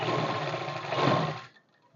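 A sewing machine runs a waist seam on a suit along a chalk line, one steady, close, loud burst of whirring that cuts off abruptly near the end.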